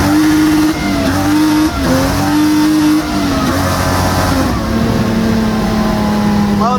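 A BMW M50-swapped car on a test drive, its engine droning loud and close with rising and falling revs through several gear changes, continuous throughout, with no talking.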